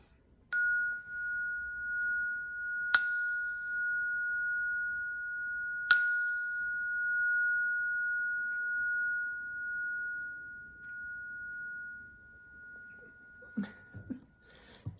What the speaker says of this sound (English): So I'm going to hit the bell 3 more times.